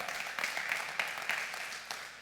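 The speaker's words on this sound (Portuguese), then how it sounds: "Você pode dar um aplauso a Jesus por isso?" Church congregation applause during a Portuguese sermon, a faint, somewhat distant crowd of clapping hands with occasional sharper individual claps standing out over a soft steady wash.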